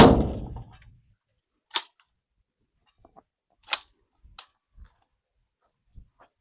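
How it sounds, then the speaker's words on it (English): Pump-action shotgun, a cheap home-defense model, fired outdoors with a few sharp isolated reports spaced over several seconds, followed by lighter mechanical clicks between shots. "It is a shotgun, and it's pretty simple being a pump action."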